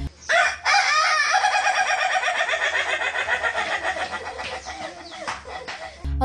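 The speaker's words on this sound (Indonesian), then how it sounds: "kalau misalnya nanti di tengah-tengah video ada suara" A rooster crows loudly and up close in one long, drawn-out call, followed by a shorter cackle.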